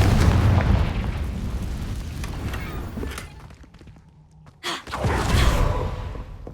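A Confringo fire-blast spell bursts in a Hogwarts wizarding video game, a loud rumbling explosion up front that decays over a few seconds, followed by a brief breathy gasp and a second heavy burst.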